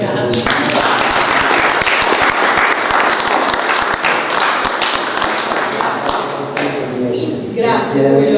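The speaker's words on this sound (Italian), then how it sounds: "E poi io vi dico un applauso alla bella scrittrice" Audience applause for a writer at a book presentation, dense sustained clapping filling the room from start to finish, with a few louder claps and voices rising over it near the end.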